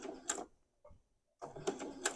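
A sewing machine chain piecing quilt patches, joining a colour square to a background square with a quarter-inch seam, runs in two short whirring bursts separated by a quiet gap with a faint click.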